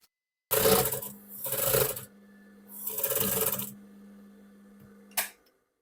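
Sewing machine stitching the crotch seam of trousers in a few bursts of rapid whirring, separated by short pauses, close and fairly loud, ending with a sharp click; no speech.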